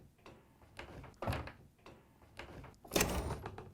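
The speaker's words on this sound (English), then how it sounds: "We can push the dishwasher back in the rest of the way." A GE dishwasher is slid back into its kitchen cabinet, giving a run of scraping, thumping knocks with one louder bump near the end, heard close and without speech.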